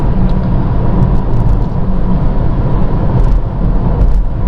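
A car driving along a road, heard from inside as a steady, loud blend of engine drone and tyre rumble with no clear breaks, and no talking.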